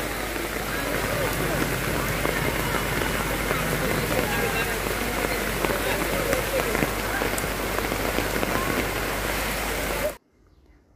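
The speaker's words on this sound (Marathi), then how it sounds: "बाजारात गेल्यानंतर पण खूप पाऊस चालू झाला" Heavy rain pours steadily at an outdoor market, a dense, continuous loud hiss of drops on surfaces that cuts off abruptly near the end.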